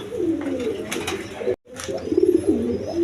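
Gorra pigeons coo close up in low, rolling murmurs that continue before and after a short abrupt cut, with faint higher chirps scattered through.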